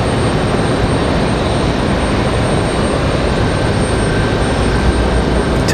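An Icelandair Airbus A319 airliner taxiing at Raleigh-Durham airport gives a loud, steady jet engine roar with a broad constant rush and a faint whine, close and unbroken with no talking.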